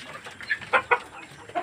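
Sonali laying hens on a small layer farm, feeding on paddy grain mixed with wheat and maize, give a few short clucking calls close by, separated by brief gaps, with no talk.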